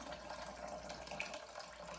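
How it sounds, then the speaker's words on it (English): Homemade vegetable broth pours through a strainer in a soft, steady liquid stream, faint and continuous for a couple of seconds with no talk. "So I am pouring off my broth,"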